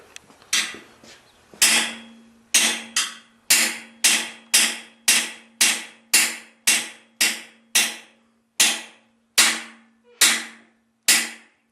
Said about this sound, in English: Sometimes you hit steel tables and the result is different from hitting wood.